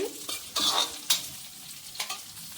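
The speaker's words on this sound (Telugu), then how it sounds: "ఇలా కలుపుకుంటూ ఫ్రై చేసుకోవాలి." Nalleru chutney ingredients stir-fried in a pan: a steady sizzle broken by several scraping stirs of a spatula against the metal, with faint clinks, close and fairly quiet, no talking.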